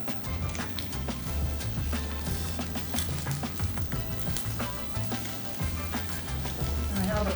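Scrambled eggs sizzle and fry in a pan, a dense steady crackle broken by repeated knocks and scrapes of a utensil stirring against the pan, close and fairly loud.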